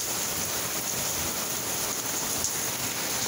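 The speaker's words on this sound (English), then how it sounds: "It's just a little rain." Light rain falls in a dense, even hiss with a soft patter on surfaces, steady and close throughout with no voices.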